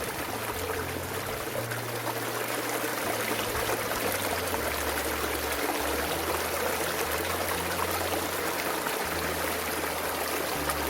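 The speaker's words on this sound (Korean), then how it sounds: "물이 그냥 철철철철 물소리 좀 들어볼게요" A mountain valley stream in Jeongseon, Gangwon, Korea flows steadily, a constant rushing and trickling of water close by with no other sounds.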